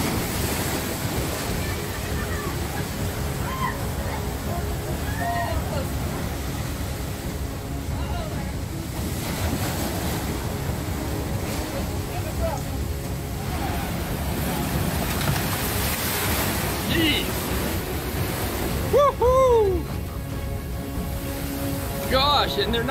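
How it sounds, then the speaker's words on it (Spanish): Big surf and ocean waves pound the shore along the Paseo Nuevo seafront in San Sebastián, where the sea strikes buildings set too close to the beach; a continuous loud roar and wash with wind noise, and faint voices underneath. "cada vez que sube la marea, el mar choca contra la casa."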